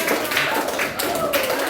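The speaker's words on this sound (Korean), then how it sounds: "박수" Brief applause from a classroom audience at a personality-type results presentation, a dense patter of claps, fairly loud and close, over about two seconds with no voices.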